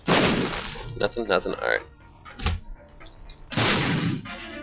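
Bombs blasting in Binding of Isaac: Afterbirth, a few sharp, crackling bursts spaced across the stretch with a voice talking briefly between them.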